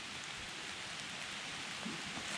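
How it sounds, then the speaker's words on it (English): Light drizzle falling outdoors in a park, a steady, even hiss of fine rain across the whole stretch, soft and continuous with no voices. "So it started drizzling a little bit."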